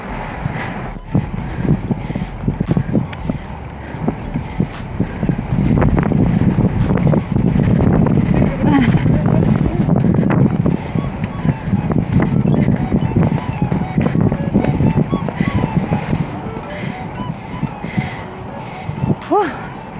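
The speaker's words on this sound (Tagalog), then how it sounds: "Grabing hangin." Strong wind buffets the microphone with a constant low roaring rumble, while voices are heard faintly underneath, during a bicycle ride in Ghent, Belgium.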